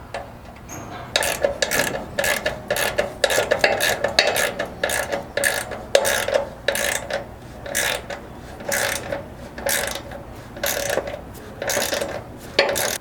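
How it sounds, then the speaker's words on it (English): A ratchet with a 9/16 socket drives a 3/8 self-threading bolt into a 3rd Gen 4Runner frame while rock sliders are installed. Steady, close and loud rapid ratcheting clicks repeat in quick strokes throughout. "take one of the 3/8 self-threading bolts in a 9/16 socket and begin tightening"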